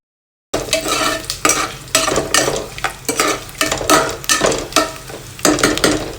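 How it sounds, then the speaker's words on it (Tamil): Cashew nuts fried in oil in a pan for coconut biryani and stirred hard with a metal spoon, giving repeated loud scraping strokes over a steady sizzle, close and without talk. "அதுக்கப்புறம் கொஞ்சம் இந்த முந்திரி பருப்பை கொஞ்சம் போட்டுக்கோங்க. போட்டு நல்லா கிண்டி விடுங்க."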